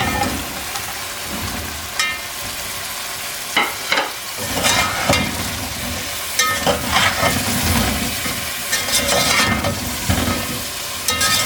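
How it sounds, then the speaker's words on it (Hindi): Vegetables with tomatoes and chillies fry for garlic pulao, a steady close sizzle broken by several sharp scraping stirs of a spoon through the pan. "साथ ही वेजिटेबल ऐड करके तो फिर इनको भूनते हैं अच्छी तरह"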